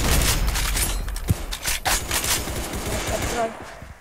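Rapid automatic gunfire rattles in dense bursts from a gun in the video game Arsenal, loud and close, mixed with booms and scraping, with a voice talking over it.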